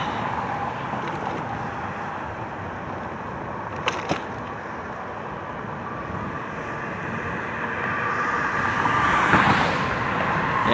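Heavy traffic on a major road roars in a steady broadband wash as a RadRover e-bike crosses it, with a brief clack near four seconds and a louder vehicle sweeping past close by toward the end.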